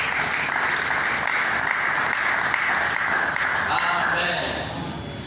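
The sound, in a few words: congregation applause in church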